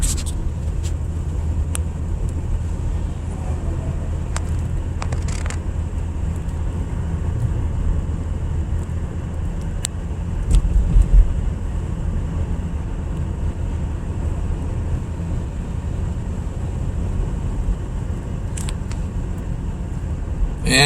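Steady low road rumble from inside a car crawling through jammed afternoon traffic, a continuous engine and tyre drone with occasional faint clicks and brief swells, no voices.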